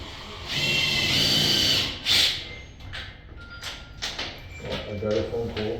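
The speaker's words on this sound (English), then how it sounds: "Drill." An electric drill bores a hole for the strike plate of a Simplex 7000 deadbolt in a door, whining steadily for just over a second, then a brief second burst followed by lighter clatter and handling noise.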